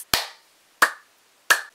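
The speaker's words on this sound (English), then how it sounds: "clap your hands" Three sharp, separate hand claps spaced evenly about two-thirds of a second apart, close and crisp, with silence between them and no talking.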